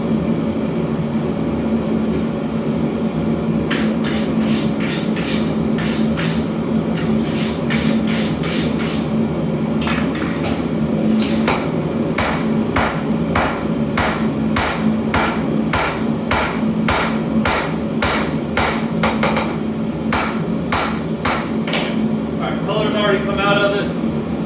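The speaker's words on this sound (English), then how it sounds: "I have forged on this piece previously, so I'll probably hit it with a brush and then start forging." Hammer blows on steel over an anvil while forging a blade, coming in rapid rhythmic bursts of sharp ringing strikes with short pauses, over a constant loud roar from the forge.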